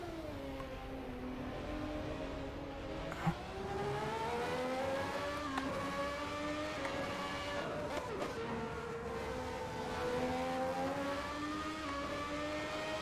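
Formula 1 car engine at Monza in the racing game Assetto Corsa, a steady high whine that rises and falls through gear changes and carries a noticeable echo, with someone talking over it.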